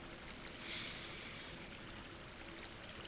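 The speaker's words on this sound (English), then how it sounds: "I could sit here for hours and just listen to the water." Steady, soft rush of flowing water in the video game Dark Souls, like a gentle stream, continuing evenly throughout with no voices.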